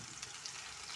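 Onions and masala frying in a pan for a Ramadan vegetable roll filling, a steady soft crackling sizzle throughout, close and fairly quiet with no voices.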